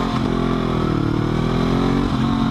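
A Honda CB500F motorcycle being ridden, its engine droning loud and steady throughout with a constant mid-pitched hum, wind rush and a slight shift in tone near the end.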